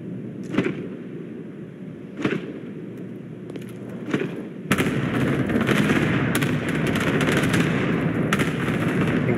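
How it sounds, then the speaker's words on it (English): Airstrike explosions in Warzone: a few sharp, separate blasts over a low rumble, then a heavier, continuous barrage of impacts and crackling booms. "I think that's the airstrike"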